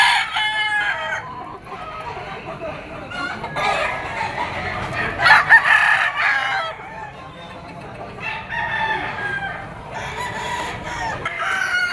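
Roosters crow repeatedly, loud and nearby, their calls overlapping with clucking from other chickens throughout, at a gamefowl market in Padre Garcia, Batangas.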